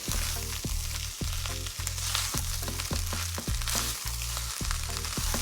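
Vegetables with carrots sizzle and fry in a pan for a homemade beef lasagna, a loud close hiss broken by regular stirring scrapes and clanks of a utensil against the pan, with no talking.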